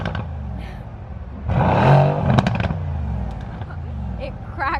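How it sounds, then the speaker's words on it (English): Mercedes-Benz AMG C63 S coupe from 2017, its engine revved once in a short, loud burst with crackle over a steady idle, close by, with voices talking around it. "We're gonna rev it a little bit to hear"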